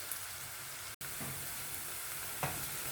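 Onion, ginger and garlic sautéing in a pan for tomato rasam give a quiet, even sizzle throughout, with a couple of soft stirring scrapes and a brief dropout near one second.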